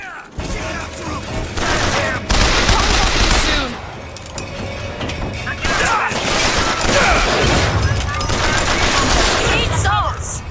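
Gunfire in the video game BioShock Infinite, dense bursts of rapid automatic shots and booms that come in waves, loud and close, with in-game voices shouting over the fighting.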